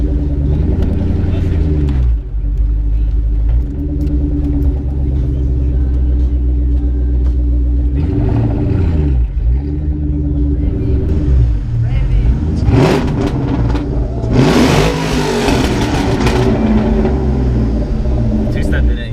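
A Cobra car engine with two-step launch control revs, throbbing deep and loud nearby, rising and falling in swells with a harsher burst near the end, while voices talk over it.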